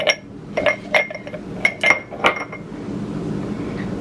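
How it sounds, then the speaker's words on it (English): Huge ice cubes clinking against a glass of classic French lemonade, a quick series of bright, close clinks and taps that fade into quiet. "I have huge ice cubes."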